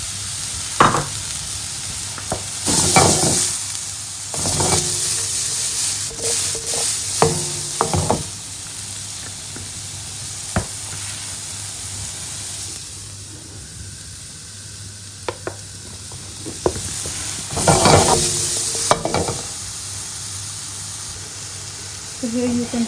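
Tomatoes sizzling in a frying pan for chicken jalfrezi, a steady hiss under repeated clanks and scrapes of a stirring utensil, close by.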